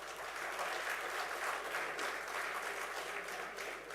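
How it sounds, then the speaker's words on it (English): An audience gives sustained applause for Chendamelam drummers at an Indian Independence Day festival in Qatar. The dense, even clapping is heard from within the hall and lasts the full four seconds without fading. "Can we have another round of applause for them, please?"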